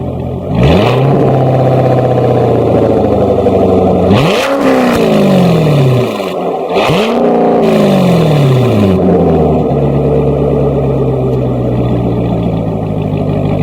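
Chevrolet Corvette C7 Stingray Z51 engine revved hard three times, each blip surging up and sliding back down, loud and close, then settling into a steady throaty idle with no talking.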